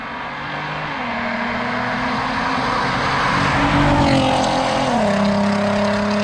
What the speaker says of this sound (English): The R32 sounds so good.